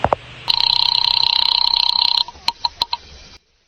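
An old-style telephone rings with a rapid rattling bell for nearly two seconds, followed by a few short separate clicks and taps before silence.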